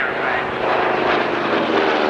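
A Corsair in US Navy markings with a 2,000 horsepower Pratt & Whitney Twin Wasp radial roars steadily overhead at an airshow, a loud, sustained propeller-engine drone with no break.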